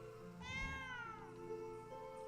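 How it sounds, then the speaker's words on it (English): A cat in the video game Moon Hunters lets out a single drawn-out, wavering meow-like yowl over a quiet background hum, with no voices. "The cat hisses and growls as you approach."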